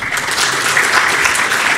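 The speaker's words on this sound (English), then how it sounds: "Applause for Zoz." A conference audience claps enthusiastically, dense and steady applause filling the room without a break.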